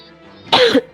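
A single short, sharp cough, close and fairly loud, after a moment of near-quiet.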